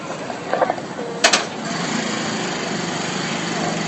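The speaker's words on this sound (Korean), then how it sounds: "그 오토바이가 지나가느라고." A motorcycle passing by at an outdoor gathering near Daejeon Station: a steady buzzing engine drone, fairly close and continuous, with brief clatters and a voice heard early on.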